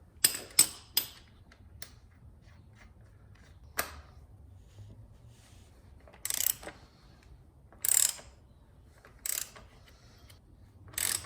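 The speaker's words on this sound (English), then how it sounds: "we haven't tightened down our axle nut yet" A hand ratchet clicks in short bursts while tightening a motorcycle front axle nut, with several separate quick clicking runs spaced apart by quiet pauses, close and crisp.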